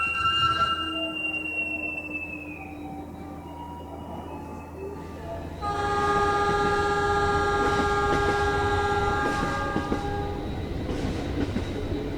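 A train rumbles past steadily with a long horn-like tone and rail clatter, fairly close and continuous.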